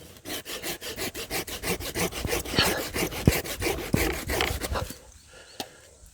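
Handsaw cutting wood in a hands-on tree-shaping job, a fast steady rhythm of rasping push-pull strokes, close and loud, stopping near the end with a couple of faint knocks.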